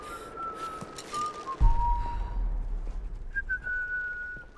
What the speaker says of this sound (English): Why are you whistling, dude?